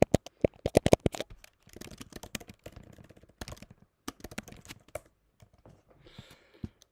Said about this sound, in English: Oops, I'm typing Chinese.